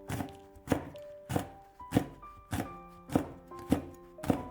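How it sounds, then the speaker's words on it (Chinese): Knife chopping bird's eye chili peppers on a cutting board, eight evenly spaced firm thunks with a steady rhythm, close and clear. "几个小米椒给它切碎"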